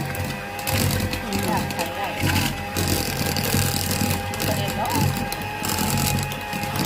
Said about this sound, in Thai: ตีเนย 200 กรัมนะคะให้เป็นครีม